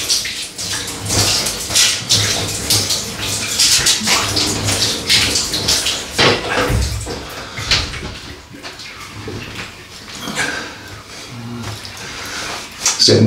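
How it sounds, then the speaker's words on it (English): Safety razor being rinsed under a running tap, water splashing and gushing close and loud with clinks and rattles, and some faint speech mixed in. "Go over the rinse, fellas."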